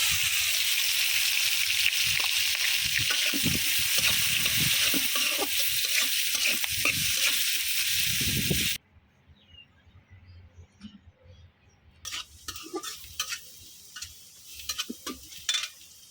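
Chopped onions hit a pan of oil for a duck egg bhuna, giving a loud, close sizzle with stirring scrapes for about nine seconds before dropping to a faint crackle that picks up again.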